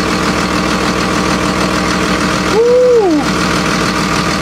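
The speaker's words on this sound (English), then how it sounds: "That sounds like a solid Cummins, baby." Cummins diesel truck engine idling nearby with the engine cover off, a steady low rumble and clatter throughout while a man whoops and a brief rising-falling whistle sweeps over it midway.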